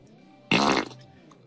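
A single short, loud fart erupts from a Link to the Past randomizer game session, a buzzy burst of about a third of a second standing alone over quiet background.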